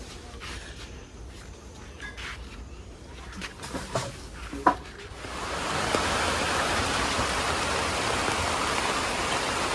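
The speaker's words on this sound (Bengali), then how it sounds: "এই যে আমরা দাঁড়াইছি এই জায়গায়, খুব ভালোই বৃষ্টি হইতেছে আজকে।" Heavy rain falls in a Bengali village, starting as scattered drips and taps, then swelling midway into a steady, dense hiss that continues to the end.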